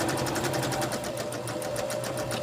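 A sewing machine stitches a quarter-inch seam on a quilted Valentine's mug rug, its needle tapping in a fast, even rhythm throughout, close and steady with no talking.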